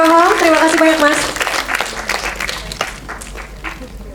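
Audience applause at the opening ceremony of the Madani International Film Festival for a filmmaker, a dense crowd clapping under an amplified voice at first, then continuing loudly on its own.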